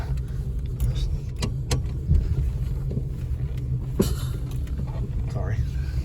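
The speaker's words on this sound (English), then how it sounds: "Yeah, it sure idles unevenly." A poorly running Plymouth Gran Fury idles unevenly, a steady low rumble heard from inside the car with slight surges and a few clicks and knocks. People talk over it throughout.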